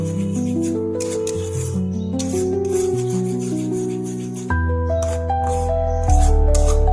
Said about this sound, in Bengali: টমেটো বাটাটা দিয়ে একটু ভালো করে নাড়িয়ে নেব।